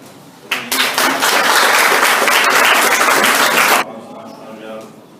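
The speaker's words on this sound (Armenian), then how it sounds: "Եկեք մենք բոլորս իրանը միաժամանակ իսկապես ծափահարենք մեր Ադամի ծնողներին։" A school audience at a first-of-September ceremony breaks into loud, dense clapping that swells quickly, holds for about three seconds, then cuts off, leaving a quieter room murmur.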